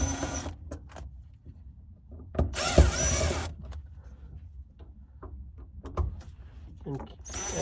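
A power tool whirs in short bursts while removing screws from the fuel filter strainer of a Lexus ES350, broken up by quiet handling clicks and light rattles in between.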